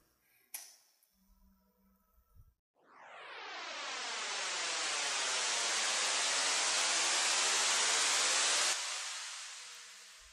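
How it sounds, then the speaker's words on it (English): Synthesized noise riser built in Ableton Operator, a broad hissing wash that swells in quickly and holds loud and steady for several seconds with long reverb, then fades as the decay tail trails off. "that will give us a nice little, rolling decay time here of some nice reverb"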